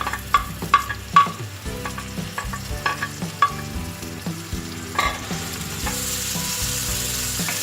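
Onions frying in a cup of hot oil for dhaba-style bhuni daal, a steady sizzle punctuated by repeated knocks and scrapes of a spoon stirring the pan, close up with no talking.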